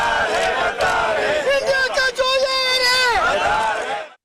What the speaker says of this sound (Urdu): مظاہرین نے بھارتی خفیہ ایجنسی را اور مودی سرکار کے خلاف نعرے بازی کی۔